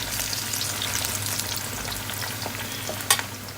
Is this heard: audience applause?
no